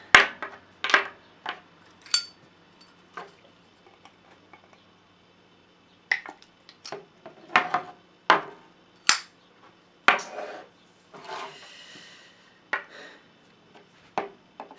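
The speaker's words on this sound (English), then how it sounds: "we're going to take the cap off, leave this one on, unscrew the main body" A Zippo metal fuel canister being handled up close, its cap and main body unscrewed in a series of sharp clicks, taps and scraping twists with quiet gaps between, no voices.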